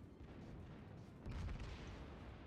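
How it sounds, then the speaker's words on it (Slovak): Warship secondary guns firing in the World of Warships video game: a faint rumbling background of naval combat with a muffled boom and distant thuds, low and continuous. "Ale viete, že sekundárna výzbroj strieľa stále."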